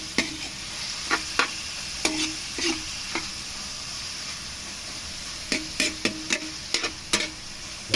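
Vegetables sizzling in a hot pan for pancit bato, a steady frying hiss broken by sharp metallic clinks of a spatula stirring and scraping at irregular intervals, close by.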